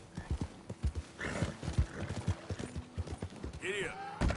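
Hooves of a horse in Red Dead Redemption 2 clop in a quick galloping rhythm, broken by a couple of sharp whinnies, with a voice talking over the hoofbeats throughout.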